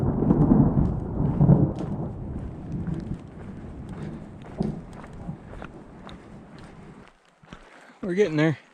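Thunder rumbles through a storm on a steep mountain trail with switchbacks, low and rolling over light rain and footsteps, with a person talking at times and wind buffeting the microphone near the end.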